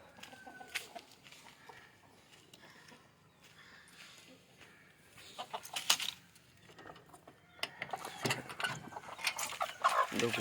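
Native country chickens cluck in the morning as their coop is opened, with rattling latch and mechanism noises; the clucking grows louder and busier toward the end.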